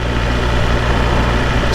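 BMW S1000RR sport motorcycle engine in sixth gear at about 24 mph, a loud, steady, low droning hum with no change in pitch or level over the short stretch.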